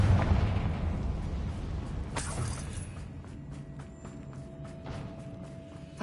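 A Confringo blasting-spell explosion in Hogwarts Legacy bursts with a sharp crack, then decays into a rumbling tail over low game ambience, alone with no talk.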